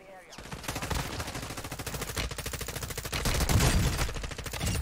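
Video game gunfire, sustained rapid automatic bursts rattling continuously and growing louder toward the end, close and dense.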